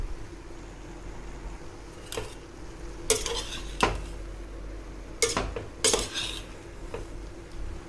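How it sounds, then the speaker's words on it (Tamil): Boiled basmati rice stirred in a pan for chicken fried rice: a spatula scrapes the metal in a handful of separate, sharp strokes over a quiet, faint background sizzle, close up with no talking. "கவனமாக கிளறி விடணும்"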